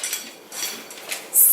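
A utensil cuts up a tablespoon of shortening in a dish, giving a few light metallic clinks and scrapes spaced across a brief moment, ending in a sharper clink.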